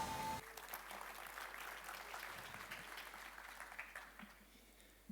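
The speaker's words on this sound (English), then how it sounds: "A round of applause for them." Applause from an audience at a startup demo day as presenters walk on stage to pitch, a steady, fairly faint patter of many hands that carries on to the end.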